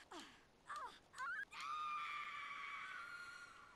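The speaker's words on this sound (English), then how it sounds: "That scream of agony." A drawn-out agonized scream from a character in the video game Bloodborne, preceded by shorter cries, rising and wavering loudly for a couple of seconds with no talk over it.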